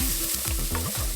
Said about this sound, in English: Go ahead and mix all of those seasonings with your onions and chiles